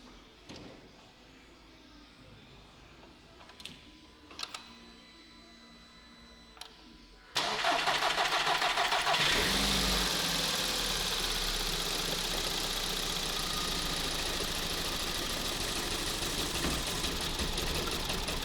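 A 2008 Škoda Octavia with a 2.0 FSI engine that is prone to stalling after starting sits quiet with faint clicks, then cranks and fires, settling into a loud, steady idle that runs on to the end.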